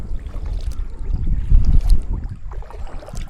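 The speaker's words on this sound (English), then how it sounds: "Paddle up the creek." A kayak is paddled up a rocky creek, with water splashing and swishing in uneven strokes against a low rumble of wind and moving water, close to the listener.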